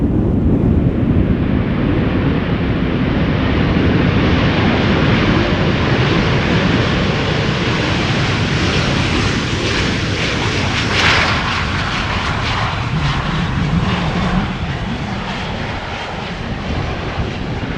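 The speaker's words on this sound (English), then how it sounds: "arriving from Dublin, 737-800, might get loud" A 13-year-old Boeing 737-800 arriving from Dublin at Schiphol roars loudly and steadily throughout, with engine noise swelling near the middle and gusty wind buffeting the microphone.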